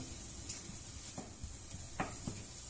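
Meat for carbonara cooking in a pan on a lowered heat, a quiet steady sizzle with a few soft clinks and scrapes scattered through it, faint and without talk.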